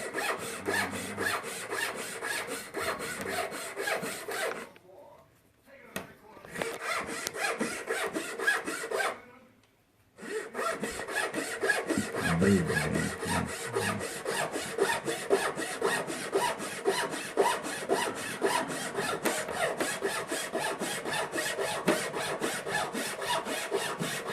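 Hand saw cutting wood at a 22.5 degree angle in a miter box, a steady rapid rasping stroke rhythm with two short pauses, close and loud.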